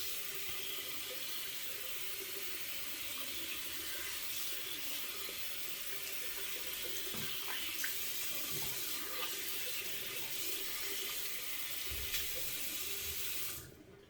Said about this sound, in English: Hot water to rinse it off.